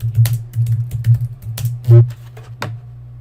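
Rapid typing on a computer keyboard while entering text in Adobe Animate, a run of close, crisp key clicks in uneven bursts over a steady low hum.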